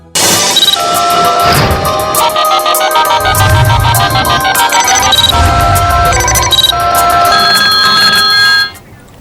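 Several telephones ring together for calls to a phone-in show, with a loud, continuous, overlapping electronic trill and a low rumble beneath.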